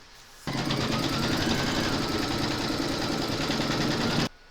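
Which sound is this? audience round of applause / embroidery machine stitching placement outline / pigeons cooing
embroidery machine stitching placement outline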